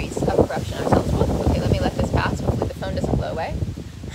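Gusty outdoor wind buffets the microphone in uneven surges, with a person talking throughout.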